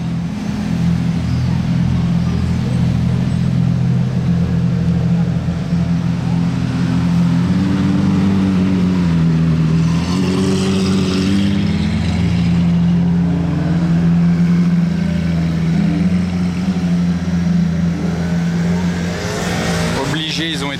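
A Ferrari supercar convoy in Monaco rolls past with exhaust valves open, a loud, sustained deep engine drone that swells and holds for many seconds, with a voice talking over it.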